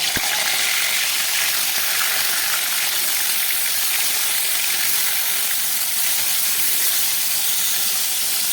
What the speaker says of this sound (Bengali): তেলটা গরম হয়ে গেছে, এবার দিয়ে দিচ্ছি মাছগুলো।